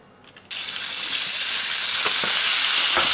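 Minced meat hitting hot oil for hachis parmentier, a quiet start that jumps into loud, steady sizzling, with a few spatula scrapes as the meat is broken up, close and without talk.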